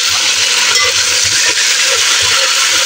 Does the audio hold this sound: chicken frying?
yes